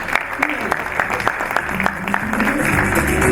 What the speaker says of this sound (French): Amel Ayouch, qu'on va applaudir très très fort